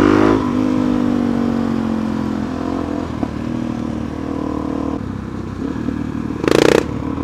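Motorcycle with a new aftermarket exhaust, its loud engine revving steadily up close and then settling into a throbbing idle, with a clack midway and a short burst of rasping noise near the end.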